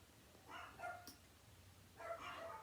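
Dogs bark faintly in the distance in two short bursts of yips, with a low steady background hum between them.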